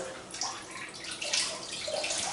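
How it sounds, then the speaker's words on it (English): Running water rinses through the valves of a baritone tuba, a steady splashing wash with uneven gurgles and spatters, close and fairly quiet, with no talking. "Okay, so rinsing the valves out,"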